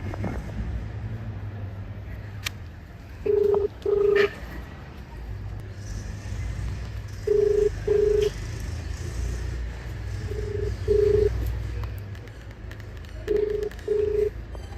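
A phone dials out: short, clear beeping tones sound in pairs and small clusters with gaps between them, over a low rumble of passing road traffic outdoors.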